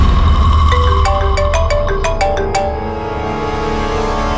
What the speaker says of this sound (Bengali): এসে গেছে সিআইডি লোকেদের ফোন।